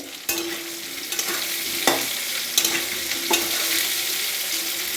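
Vegetables sizzle loudly in a pan while a spoon stirs them, with several sharp scrapes and clicks against the metal over the constant frying hiss.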